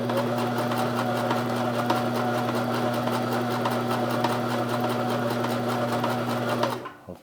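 A Sears Kenmore sewing machine runs a stretch stitch in one steady, close, continuous whir with a rapid mechanical rhythm, stopping abruptly just before the end.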